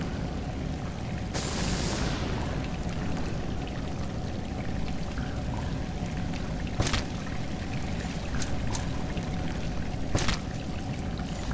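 Steady rushing roar of a waterfall in the video game Salt and Sanctuary, continuous and fairly loud, broken by a few short splashy bursts.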